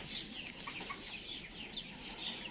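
Young Tiger breed chickens, 49 days old, in a poultry farm flock, giving soft overlapping clucks and chirps close by, a steady murmur of many birds with no talk.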